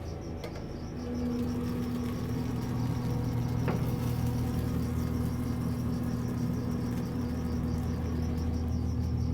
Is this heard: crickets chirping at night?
yes